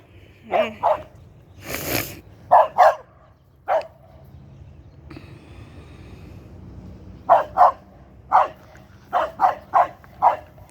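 A small dog barks in sharp clusters of yips outdoors, a pair early on, a lone bark, then a quick series near the end, fairly close, with quiet gaps of ambient noise between.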